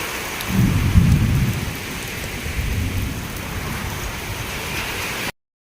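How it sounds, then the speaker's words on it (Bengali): A thunderstorm with steady rain and low rumbling thunder that swells early, fades, and rolls again midway before the sound cuts off. "মেঘও ডাকছে।"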